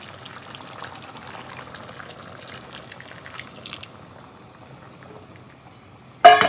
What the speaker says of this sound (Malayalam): ഇനി നമ്മൾ ലാസ്റ്റ് ഈ 1-ാം പാൽ ഒഴിച്ച് കൊടുക്കും കേട്ടോ.